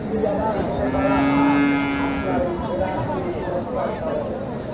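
Young Sahiwal heifer calves at a busy cattle market in Naogaon; one calf gives a long, clear moo over a steady hubbub of crowd chatter.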